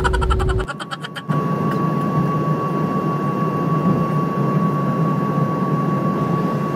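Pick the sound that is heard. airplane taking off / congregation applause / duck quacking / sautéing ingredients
airplane taking off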